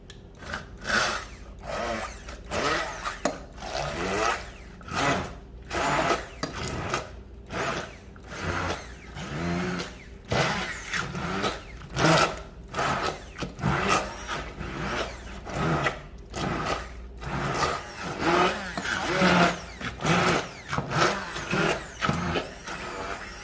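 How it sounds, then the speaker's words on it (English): An immersion blender purees a curry carrot mixture with coconut milk and honey, whirring in repeated short bursts with brief gaps, loud and near, its pitch shifting as the blades churn. "All right, I'm going to go in with my immersion blender."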